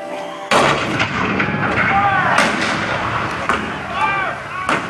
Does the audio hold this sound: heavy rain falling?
no